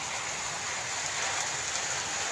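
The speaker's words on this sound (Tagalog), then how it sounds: "Malakas ang ulan" Heavy rain pours onto a small hut shelter, a dense, continuous hiss and patter that stays loud and unbroken from start to finish.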